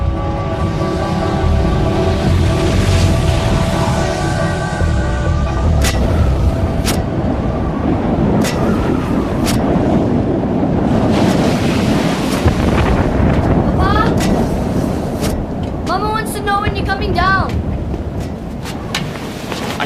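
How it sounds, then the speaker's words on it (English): Deep rumbling booms and roaring blasts from the Krakatoa volcanic eruption, a continuous heavy low roar with sharp cracks recurring through the middle and end, loud and dense throughout. "A series of booms could be heard hundreds of miles away."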